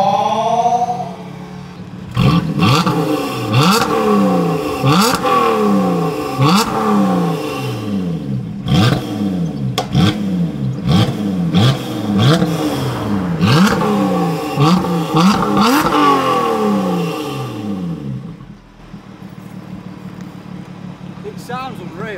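Lotus Exige S with a race exhaust revved hard and repeatedly, loud close engine sweeps rising and falling in quick rhythmic blips for about fifteen seconds before settling to idle, with a voice talking over parts of it.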